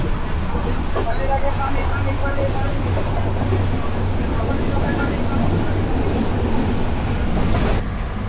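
A passenger train heading from Dhaka Airport station to Natore at night, riding in a near-empty Shovan chair coach: a loud, steady rumble and rattle of wheels on rails, with faint clicks, throughout.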